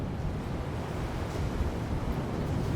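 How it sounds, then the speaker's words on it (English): Ocean waves batter rocks with a steady, dense roar of surf and rushing water, loud and continuous throughout, with a windy rumble underneath and no voices. "On the surfaces of rocks battered by waves"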